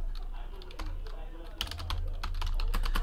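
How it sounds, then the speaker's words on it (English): Clicky keystrokes on a computer keyboard come in quick bursts, close and moderately loud, over a low steady background hum. "So let me type in all the hits really quick."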